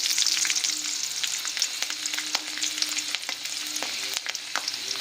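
Black cumin seeds and garlic fry in hot mustard oil, giving a continuous close sizzle with sharp pops and crackles throughout.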